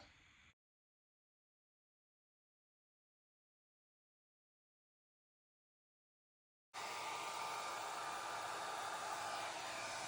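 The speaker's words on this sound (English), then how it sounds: "I have a really big concentrator on my hair dryer" A hair dryer fitted with a large concentrator nozzle switches on abruptly after a long silence and blows loudly and steadily, a close, constant rushing whir.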